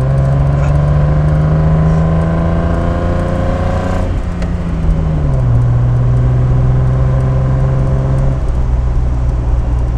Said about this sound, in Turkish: Motor sesini dinlemek için.